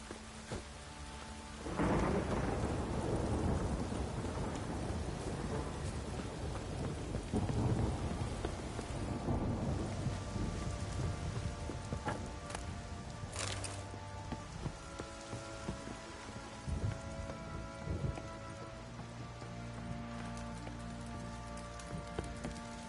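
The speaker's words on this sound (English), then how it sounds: "A storm, damn it." A thunderstorm rolls in with a loud crack and a long, heavy rumble of thunder over steady, dense rain, with further softer rumbles continuing beneath the constant downpour.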